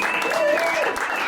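Studio audience applause during a Nashville country music radio show, a short, dense burst of close clapping with a voice talking over it.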